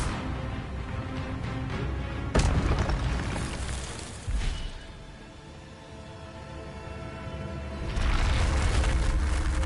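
Spell blasts in Hogwarts Legacy go off as deep booms, one sharp burst early, another brief one mid-way and a longer roaring surge near the end, over a constant rumbling game backdrop.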